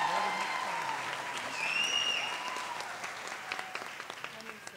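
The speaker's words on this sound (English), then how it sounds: "Let's give our mechatronics cohort students one more round of applause" An audience at a college cording ceremony applauds mechatronics cohort students, a steady wash of clapping at moderate distance that slowly thins toward the end, with faint voices mixed in.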